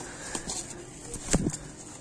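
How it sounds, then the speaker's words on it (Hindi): Pigeons cooing in a loft or coop, soft low coos coming in a few short bursts close by, with faint rustling and background noise around them. "देख लो गाइस खूबसूरती देख लो यार इन कबूतरों की।"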